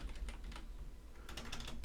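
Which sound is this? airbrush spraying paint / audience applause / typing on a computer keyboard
typing on a computer keyboard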